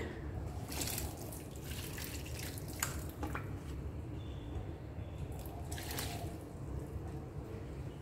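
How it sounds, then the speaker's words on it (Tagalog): Soft, steady trickle and patter of water sprinkled onto soil mixed with kitchen waste, with a few faint drips, continuous and close by, no voices. "So nilagyan na natin siya ng kunting tubig."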